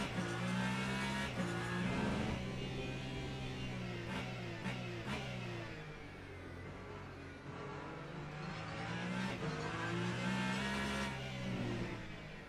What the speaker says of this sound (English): The tires screaming for their life.